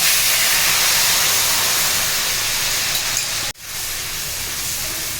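Mustard, poppy seed and green chilli paste hits hot oil with turmeric for a hilsa-in-mustard dish. It gives a loud, steady, broad sizzling hiss, broken once by a momentary dropout before it carries on.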